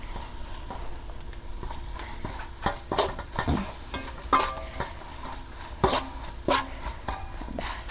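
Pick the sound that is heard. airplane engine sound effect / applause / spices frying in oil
spices frying in oil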